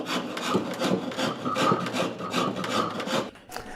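Wood rasp filing a wooden guitar neck during shaping, a close series of rhythmic scraping strokes, about a dozen back-and-forth rasps at a steady pace with no voices.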